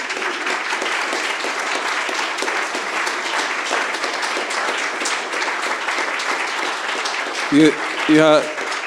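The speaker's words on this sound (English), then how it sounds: "can we have a round of applause for Andrew Paulson, please" Dense audience applause fills a conference hall continuously, with a few short voice sounds rising near the end.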